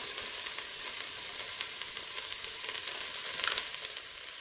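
Diced celery sizzles in an Instant Pot as chowder is started, a steady close frying hiss with a few soft stirring scrapes.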